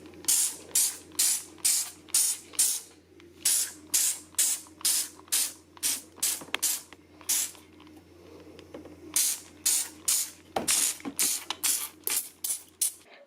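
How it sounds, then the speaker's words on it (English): Viacal limescale spray pumped around a washing machine drawer: many short, close hissing spray bursts in quick rhythmic runs, with brief pauses between groups and a low background hum. "I'm going to spray around the edges of the washing machine drawer using elbow grease."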